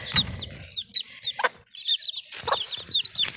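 A Mille Fleur broody hen clucks softly among her chicks, short repeated clucks mixed with the chicks' high, bright peeping close by, in bursts with brief pauses and no voices.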